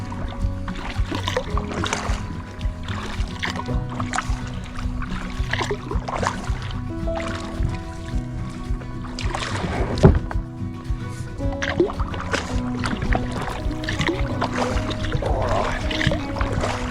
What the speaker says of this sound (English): let's go do some paddling